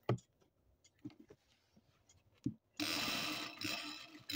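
Sewing machine stitching the leg hem of a dhoti salwar, starting with a few soft ticks and taps, then running loud and continuous for the last second and a half.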